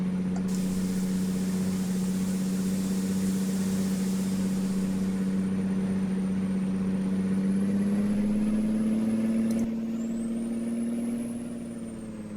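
A heavy truck engine drones and revs steadily in American Truck Simulator on the Dalton and Elliot Highway, its pitch climbing slowly as the revs build, with a brief air-brake hiss near the end.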